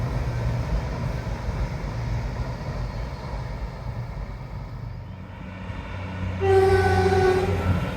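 A train rumbles past steadily, and near the end its horn blares out with loud, sustained tones over the rolling noise.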